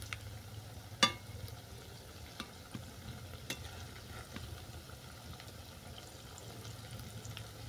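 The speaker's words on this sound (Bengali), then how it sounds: "বড়াগুলো এক পিঠ ভাজা হয়ে গেছে" Red amaranth leaf fritters fry in hot oil with a faint, steady sizzle, broken by a few soft clicks as pieces are turned in the pan; no voices.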